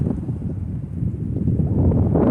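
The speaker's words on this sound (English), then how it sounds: "And as always, it's so windy out here." Strong wind blowing outdoors at a camp in El Paso, Texas, a steady low rumbling buffet against the microphone that swells slightly louder toward the end, with no talking.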